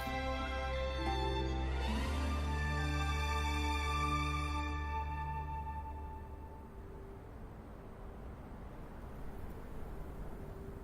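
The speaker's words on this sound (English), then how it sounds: "That's the sound of sprouting." A sprouting effect from the video game Wuthering Waves: a sustained shimmering, harmonic tonal swell that rises and then fades into a quieter ambient hum, heard alone without talk.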